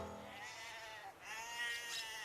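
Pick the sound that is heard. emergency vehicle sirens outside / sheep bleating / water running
sheep bleating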